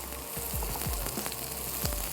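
Peanuts roast in hot oil in a karahi for a Darbari karahi dish: a continuous close sizzle with a few soft scrapes and low thuds of pieces shifting in the pan, no talking.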